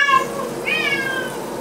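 A cat meows twice, a short cry followed by a longer drawn-out meow, close and clear over quiet background.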